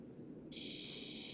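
An FX9900 hidden camera detector sounds its alert: a sudden, steady high-pitched electronic tone starts partway through and holds unbroken over faint background hum.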